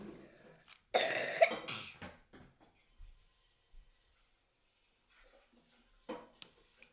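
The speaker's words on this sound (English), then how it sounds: "has a pretty bad cough" A burst of harsh coughing near the start, then a few quieter coughs and throat sounds scattered through otherwise quiet surroundings.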